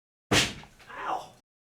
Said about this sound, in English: You heard the sound of corporal punishment, getting the cane.